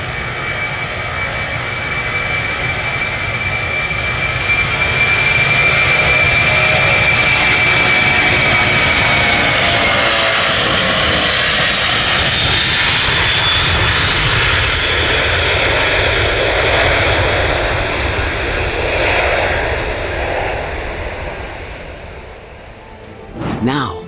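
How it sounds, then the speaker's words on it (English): A US subway train roars into a station with a loud, sustained rumble and rising high whine that swells over several seconds, then gradually fades as it slows, like a jet taking off. "The thunderous roar emitted by the US subway when it arrives at the station is like an airplane taking off"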